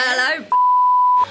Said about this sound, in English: I'm just going to beep it out